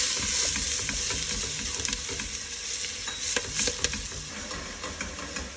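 Bolognese sauce with fresh oregano and parsley sizzles steadily in a pan, a constant close frying hiss broken by occasional scraping stirs. No one speaks.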